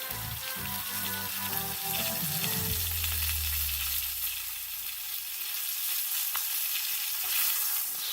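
A sirloin steak sears in a hot pan with a steady, loud sizzle and crackle throughout, and a few low thuds and scrapes near the start as the meat shifts.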